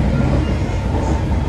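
A metro train rumbles steadily from inside a moving carriage, a loud, continuous low roar with faint rattling.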